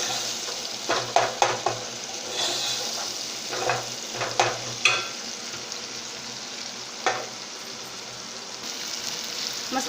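Tomato masala with green chillies and eggs sautéing in oil in a home kitchen for anday ka khagina, a steady frying hiss broken by several sharp scrapes and clatters of the spoon stirring the pan, with no talk.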